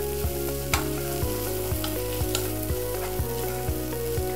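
Four cloves of garlic and some ginger frying in a pan for courgette soup, a steady close sizzle under a tonal background music bed, with regular light taps from stirring.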